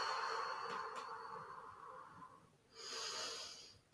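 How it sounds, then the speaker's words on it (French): A slow exhale during a guided stretching session, a soft, breathy airflow sound up close that fades before a second, brighter breath rises near the end. "Et j'expire."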